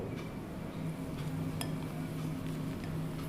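A utensil stirs and folds keto cake batter with raisins in a bowl, giving faint, quiet scraping and occasional light clinks of metal against the bowl over a soft background hum.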